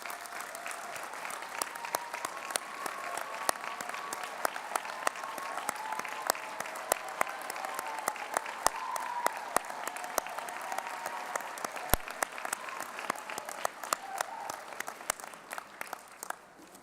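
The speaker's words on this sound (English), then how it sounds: "Let's give them a big round of applause." Continuous applause from a large audience at an awards ceremony for parents and guardians, an even wash of many hands clapping that holds steady throughout, with a few sharper claps standing out.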